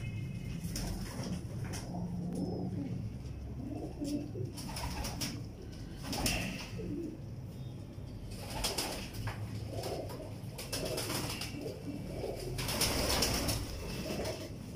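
Teddy pigeons coo softly and repeatedly over a steady background hiss, with occasional louder bursts of cooing.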